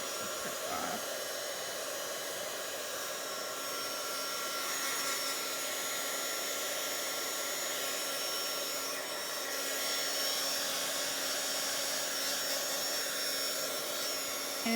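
A hair dryer blowing to dry layers of watercolor paint, a steady close whooshing motor roar running unbroken throughout.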